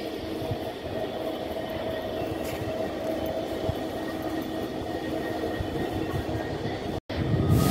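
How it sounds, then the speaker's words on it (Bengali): The Cox's Bazar Express passenger train idles at Cox's Bazar railway station with a steady, droning engine rumble and hum, continuous throughout, with a short dropout near the end. "আপনারা পাশে যে ট্রেনটি দেখতে পাচ্ছেন এটি মূলত কক্সবাজার এক্সপ্রেস"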